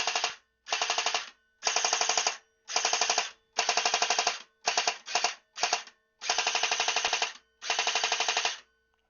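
An RWA M1919 airsoft machine gun fires about ten loud, close, rapid bursts, each a second or so long, separated by short silences.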